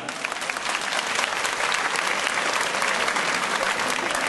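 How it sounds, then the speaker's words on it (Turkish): A crowd at the opening ceremony of a cultural center and cemevi in Bursa bursts into loud, dense, sustained applause, an even wash of many hands clapping that fills the hall without letting up. "Onları alkışlayalım lütfen."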